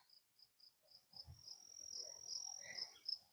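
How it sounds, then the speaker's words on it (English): Crickets and grasshoppers in a meadow chirp in faint, steady, evenly spaced pulses that merge into a continuous high trill, with soft rustling underneath. "Hope you can hear the crickets and the grasshoppers."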